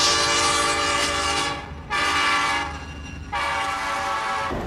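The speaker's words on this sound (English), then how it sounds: "this is a typical locomotive like you'd see hauling freight" Diesel freight locomotive passing with loud, sustained horn blasts, three long blows separated by short gaps over the rumbling roll of rail cars, close and powerful.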